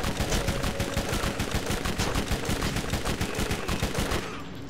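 Rapid SMG fire in Borderlands, a sustained automatic burst of evenly spaced, loud close shots running for over four seconds before cutting off.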